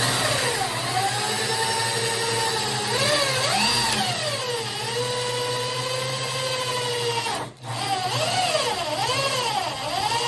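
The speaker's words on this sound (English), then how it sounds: "I'm gonna turn the clutch all the way down on my drill here." A cordless drill with its clutch set all the way down whines steadily for several seconds while driving a screw into cabinet hardware, motor pitch dipping and rising repeatedly, with one brief stop near the end.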